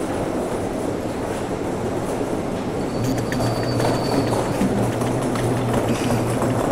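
A train rumbles steadily past with a continuous rolling roar, wheels clattering and a faint squeal rising partway through.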